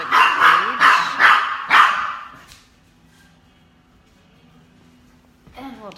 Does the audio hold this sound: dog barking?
yes